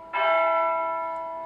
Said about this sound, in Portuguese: Peço desculpa pelo sino, ele vai tocar algumas vezes